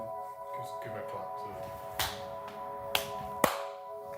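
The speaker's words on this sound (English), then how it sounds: "I'll do one uniform clap." Three sharp single claps ring out a second or so apart, loud and close, over a faint steady background hum.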